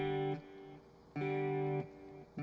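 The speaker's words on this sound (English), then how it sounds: "Let's get some plate reverb in there." Electric guitar played through a stereo plate reverb and effects rig rings out in two sustained chords, each held loudly for under a second before cutting off, followed by a brief third strum; no voices.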